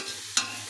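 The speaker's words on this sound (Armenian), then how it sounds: "Խառնենք, տակը դանդաղացել եմ, որ դանդաղ տապակվի" Beef for borscht fries slowly in a pan with a soft, continuous sizzle, and a single brief scrape of a stirring utensil cuts in partway through.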